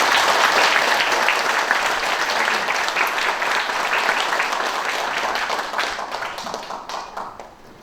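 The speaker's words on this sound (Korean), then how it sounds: "박수 부탁드리겠습니다." Audience applause fills a founding ceremony hall, steady and dense for several seconds before tapering off toward the end.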